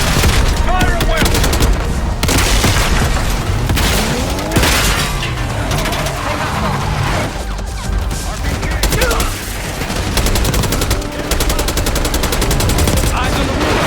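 Dense, loud gunfire rages in a Call of Duty: Black Ops 6 campaign battle, with machine-gun bursts, single shots and booming impacts layered almost nonstop, and voices shouting beneath the din.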